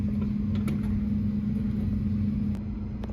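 An elevator car arrives in an apartment building in White Plains, New York, as a steady low mechanical hum with a few faint clicks and taps over about three seconds.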